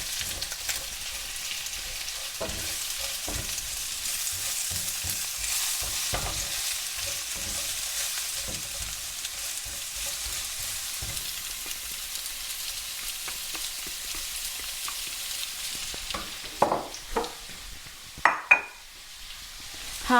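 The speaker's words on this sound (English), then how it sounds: "It says medium heat for the onions. So let's just get those in there." Onions and garlic fry over medium heat in a pan, a steady close sizzle with occasional stirring scrapes and a few sharp utensil knocks toward the end, with no talking.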